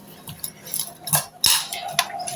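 Spoon stirring salt into bitter gourd, coconut and chili powder, a handful of sharp metallic clinks and scrapes against a bowl at an uneven rhythm, close and fairly quiet.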